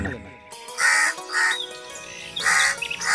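Crows cawing in the morning, three loud harsh caws spaced about a second apart, with a voice speaking throughout.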